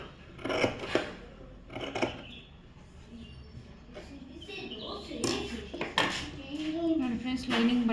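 Scissors snip through blouse fabric in several short, close crisp cuts with light rustling between them, while someone talks over the sewing work.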